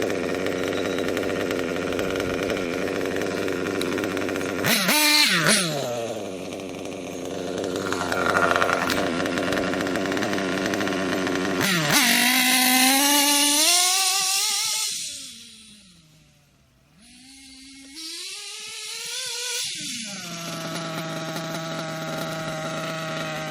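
A nitro engine, freshly tuned, runs with a loud buzzing whine that revs up and down, dips briefly, then settles back into a steady high-pitched idle, close and without voices.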